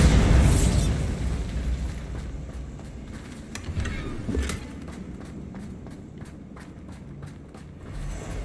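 Bombarda explosion spell cast in the video game Hogwarts Legacy, a loud booming blast at the start that fades into rumbling debris, followed by quieter scattered footsteps and small clicks.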